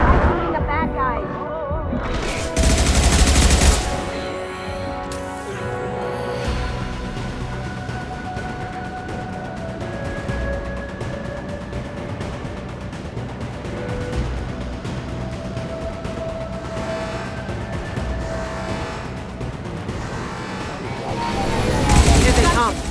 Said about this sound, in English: Shooting the bad guys.